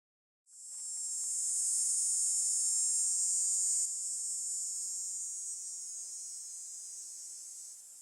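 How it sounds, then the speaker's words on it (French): Cicada sound effect with a steady, loud, high-pitched buzzing drone that starts abruptly, holds for several seconds, then softens slightly toward the end, with no talking. "Un peu agressant, cette cigale."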